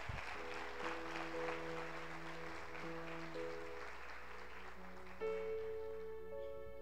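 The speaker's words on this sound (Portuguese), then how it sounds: "Dá um aplauso para Jesus" A church congregation gives a scattered round of applause during a Portuguese-language sermon, soft clapping beneath sustained organ or keyboard chords.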